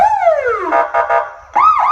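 A police siren wails loud and close, sweeping down in one long falling tone, then pulsing in short bursts before rising again after a brief gap.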